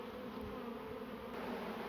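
A swarm of honeybees buzzing steadily, a dense continuous hum that stays even throughout, fairly faint and with no talk.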